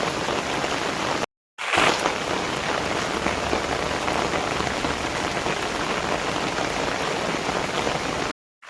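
Heavy monsoon rain pours down on a village in Mayurbhanj, Odisha, under a red alert: a dense, constant hiss of drops on surfaces. The downpour is briefly cut off near the start and again at the very end.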